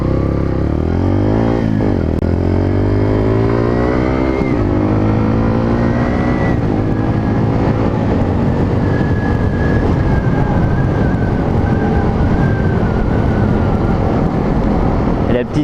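A Bullit Hero 125 motorcycle accelerates loudly and close up, its engine pitch rising and dropping at each gear change, then holding steady at a higher revving drone.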